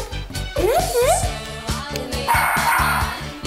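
A dog barks repeatedly at close range, loud rhythmic yapping under a whining, pitch-sliding tone and a brighter synthetic wash, with each bark cutting in sharply.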